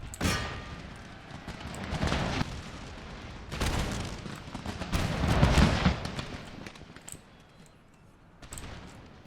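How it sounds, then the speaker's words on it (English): Musket volleys in an Empire Total War battle, several rolling bursts of massed gunfire crackling and booming in waves, at moderate distance with no voices. "Most of them are still getting their shots off."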